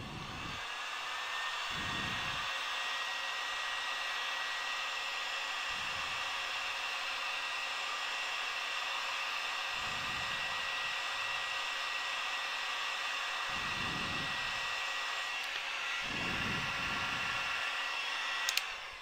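A heat gun blows hot air over polymer clay beads to melt their surface, giving a continuous close whooshing roar like a hair dryer that runs unbroken throughout, with soft low thumps now and then and no talking.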